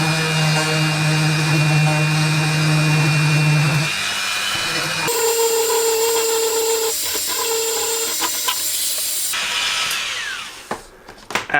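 Plastic being friction welded with a rotary tool: a whining, high-pitched motor drone shifts in pitch as the rod grinds against the plastic, then winds down into a few scattered knocks.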